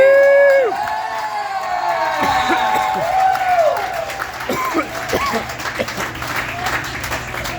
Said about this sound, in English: Make it very loud for the very funny Blind Dave